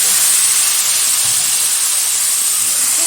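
Broccoli and potato pieces, dusted with turmeric, hitting hot oil: a loud, steady close hiss that holds unbroken throughout, with no voices.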